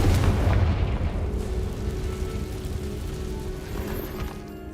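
Confringo explosion spell from a Hogwarts wizarding video game: a deep booming blast that rolls out and slowly fades, loud at the start and trailing off.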